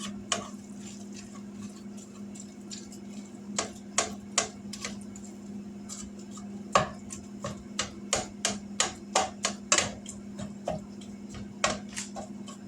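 A knife chops half a small onion finely on a cutting board: crisp, close taps come irregularly at first, then build into quicker rhythmic runs over a low steady hum.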